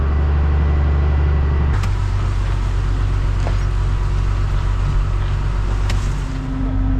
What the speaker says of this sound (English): So tipping the first load now.